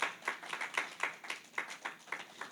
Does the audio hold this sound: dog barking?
no